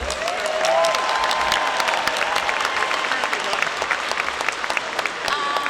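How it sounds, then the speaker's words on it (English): Applause from an audience at a Giving Machine launch event in Kansas City, honoring a community college chamber choir. Sustained, dense clapping fills the room at steady loudness throughout, with faint tonal sounds briefly rising through it. "Give them a round of applause again"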